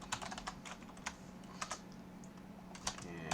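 JavaScript code is typed on a computer keyboard in a quick, close run of clicking keystrokes, some struck harder than others, with no voice over them.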